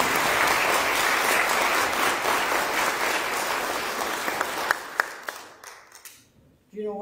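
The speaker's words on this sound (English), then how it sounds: "Let's give them a round of applause." Congregation applause for graduates during a church worship service, a broad wash of clapping that thins into a few scattered final claps before fading out, with a voice coming in at the end.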